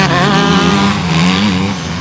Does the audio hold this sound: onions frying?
no